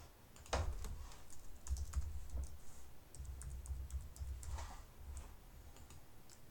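Fingers type on a computer keyboard to log in, giving quiet, close, irregular key clicks in short bursts.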